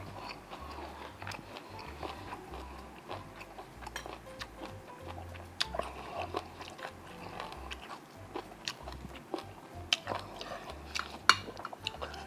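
Close, crunchy chewing of insects and chili paste (nam phrik) in a home meal, with irregular bites and soft mouth clicks running steadily throughout, no talking.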